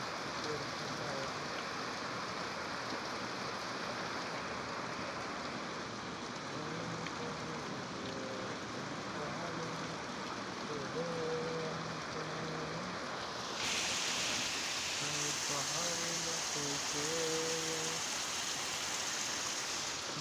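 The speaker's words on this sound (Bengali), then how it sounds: "পড়ছে পড়ছে পড়ছে হায় হায়, বৃষ্টি পড়ছে হায়।" Steady heavy rain pours down over empty streets, a dense, even hiss that grows slightly louder toward the end, with faint singing tones drifting beneath it.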